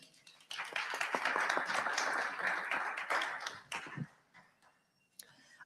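A room of listeners at a World Cup salon gives a Haitian content creator and host a round of applause, steady and full for about three and a half seconds before tapering into a few stray claps.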